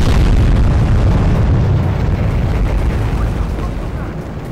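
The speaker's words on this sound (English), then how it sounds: "That old meth lab exploded!" A meth lab blows up in the Battlefield Hardline campaign: a loud, heavy, sustained explosion roar dominated by deep rumble, staying dense and forceful for several seconds before slowly easing off.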